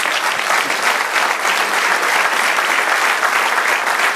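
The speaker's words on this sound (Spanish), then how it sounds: "Dale aplauso al Señor" Steady, loud applause fills a church service, a dense congregation clapping continuously without a break and with no voices rising above it.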